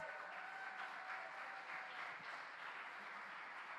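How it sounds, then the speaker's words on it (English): Quiet, steady applause from a gala dinner audience at a fashion awards night in Miami Beach as models walk in, faint and distant with little variation throughout. "Everybody, a round of applause for our models."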